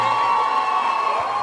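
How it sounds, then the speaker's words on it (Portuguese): Audience at a singing competition applauding and cheering, a dense, loud wash of clapping, shouts and whoops that continues evenly throughout. "Muitas palmas para Cassiana Rocha."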